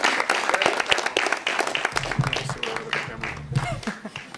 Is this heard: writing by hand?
no